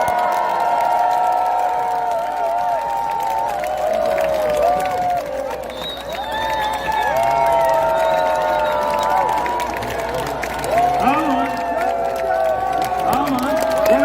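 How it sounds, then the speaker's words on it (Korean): A crowd at a political campaign rally in Gwangju applauds and cheers loudly and continuously, with shouts and whistles rising and falling under a voice amplified over the noise. "한 분 한 분 뜨거운 박수로 환영해 주시면 감사하겠습니다."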